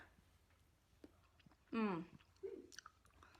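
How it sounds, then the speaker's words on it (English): Close, quiet chewing of a steamed carrot with a soft crunch, a few small bites and mouth sounds, with a brief burst of voice in the middle. "So let's have a taste of the carrot."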